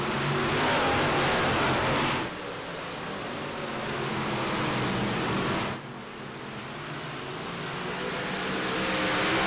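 Simulated iRacing race cars at Volusia Speedway Park roar up to speed together at the green flag, loud and sustained. The engine drone briefly dips twice before swelling again.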